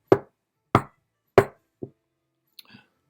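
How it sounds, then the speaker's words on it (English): Knocks on a castle door in a fairy-tale story: three sharp, loud raps evenly spaced, a softer fourth knock, then a faint trailing rattle, with no talk over them. "He knocked at the castle door"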